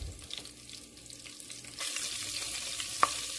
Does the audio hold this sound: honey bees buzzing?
no